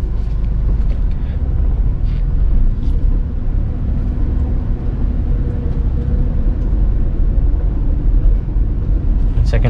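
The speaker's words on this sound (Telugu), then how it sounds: "ఇప్పుడు చూడండి నేను ఇప్పుడు ఫస్ట్ గేర్ వేసాను" Car engine running in first gear during a driving lesson, heard from inside as a steady low rumble and road noise that holds throughout, with faint talk in the cabin.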